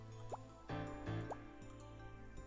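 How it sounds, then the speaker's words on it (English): Water drips and plops from a tank in a video game, a few distinct droplet sounds falling over a low game soundscape with no talking. "Looks like something came down from the tank with the water."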